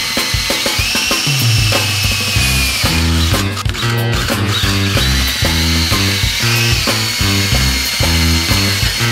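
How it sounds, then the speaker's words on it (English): A loud, steady power drill whines and grinds continuously, drilling holes in a boat to mount a Minn Kota Terrova trolling motor, its pitch shifting slightly as it bites into material, with no voices. "then we're ready to drill the holes"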